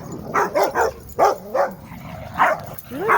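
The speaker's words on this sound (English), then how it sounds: "You don't even look like you're barking." Dogs barking outdoors on a nice day after rain, several close, loud barks and yips in irregular clusters with short gaps between them.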